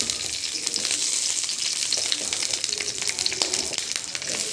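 Green chillies crackle and fry in a spoon of hot oil, a steady close sizzle with bright popping spatters throughout and no talking.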